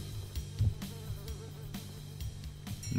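A housefly buzzes steadily in the Fly Simulator video game, set in a pizza shop: a continuous low droning hum with faint rhythmic ticks over it, heard alone and without talk.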